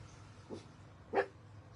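A rescued dog, once a mangy puppy with a broken leg, in a garden setting, gives two short barks, the second louder, against a low steady background hum.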